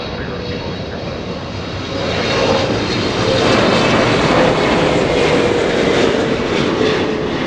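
Boeing 777 airliner at Los Angeles International Airport, a steady loud broadband engine roar very close by that swells after the first two seconds and holds.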